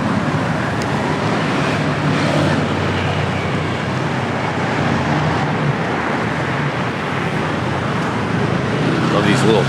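Busy street traffic in Nong Khai, Thailand, a loud steady roar of passing cars and small trucks, with people talking nearby over the road noise.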